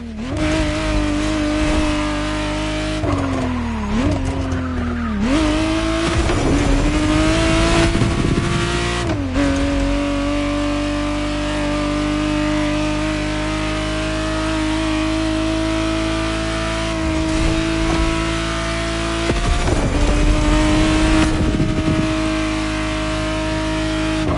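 A 1991 Ferrari 512TR Testarossa in The Crew Motorfest, its engine droning loud and steady with repeated revs rising and falling, plus a brief tire squeal.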